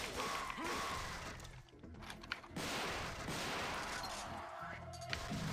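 Shotgun blasts in Devil May Cry combat, mixed into dense, continuous action noise with impacts and clatter, loud throughout.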